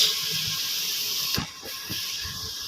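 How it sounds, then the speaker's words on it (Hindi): Masala spice paste fries in a pan with a steady close hiss, broken by a few brief soft stirring or scraping sounds. "सो गाइस ये हमारा मसाला भुन रहा है"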